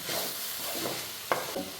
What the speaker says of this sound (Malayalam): ഇനി അടുക്കി പിടിക്കാതെ നമ്മളിങ്ങനെ ഇളക്കി ഇടയ്ക്ക് കൊടുക്കണം.